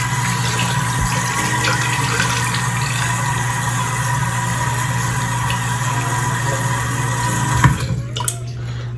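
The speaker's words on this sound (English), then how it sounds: "Alright, y'all, I washed off my face" Running water from a bathroom tap flows steadily and loudly as face cleanser is washed off, a constant close rush ending in a few splashes and drips near the end.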